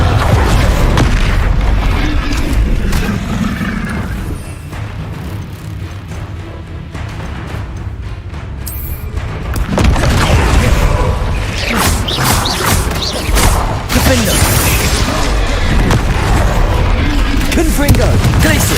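Repeated Confringo explosive spell blasts in Hogwarts Legacy, loud booms and crashes in a busy combat flurry mixed with other spell impacts, with a quieter dip midway before the barrage resumes.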